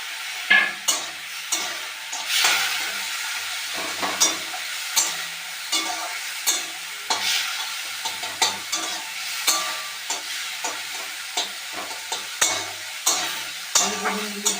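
Fried potatoes and eggplant being stirred into spinach in a pan, with a quick, regular run of spatula scrapes and knocks over a light sizzle, close and steady throughout.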